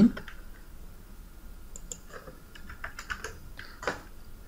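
Quick bursts of typing on a computer keyboard as code is entered, with soft, irregular key clicks in short clusters and pauses in a quiet room.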